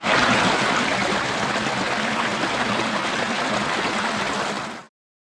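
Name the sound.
small forest stream flowing on a trekking trail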